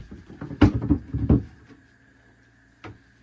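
A shoe drawer in a home storage unit is handled, giving a cluster of close wooden knocks and thuds, then a short rumble and one more knock after a brief pause.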